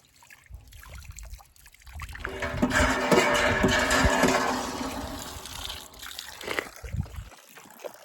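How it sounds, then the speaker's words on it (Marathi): Water runs steadily from a tap or pipe for washing hands and feet outside a Hanuman temple, swelling for a few seconds and then easing off, fairly close and with no talk over it. "बघू शकता खूप चांगल्या प्रकारे पाणी सुद्धा लागलेलं आहे"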